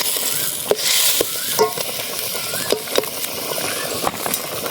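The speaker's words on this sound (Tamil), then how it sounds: "நம்ம ஆள் வந்து ஜம்முன்னு கறி வறுத்துட்டு இருக்காருங்க" Quail meat frying in a pan in the open woods, a steady close sizzle broken by sharp clicks and scrapes of stirring, with no talk.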